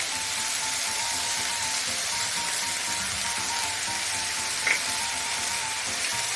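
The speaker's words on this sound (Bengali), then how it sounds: "টমেটোটাকে একটু ভাজা ভাজা করে নেব" Tomatoes fry in a pan for khichuri made with Tulaipanji rice, a steady close sizzle and crackle that runs unbroken throughout with one brief faint clink partway through.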